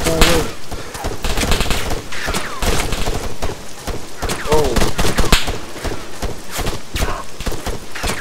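Dense gunfire rattles almost continuously through an Arma 3 co-op patrol mission, with rapid sharp bursts and scattered single shots close by, plus faint voices in the mix.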